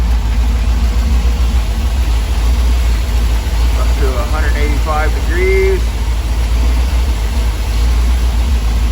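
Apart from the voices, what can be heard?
V8 engine running through exhaust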